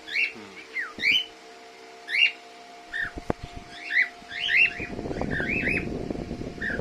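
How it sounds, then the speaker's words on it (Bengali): Small semi-adult pet birds at a bird farm chirp and tweet in repeated short bursts, close by, with a brief clatter and a rising rustling noise toward the end. "এরা হচ্ছে আমার সেমি অ্যাডাল্ট পাখি"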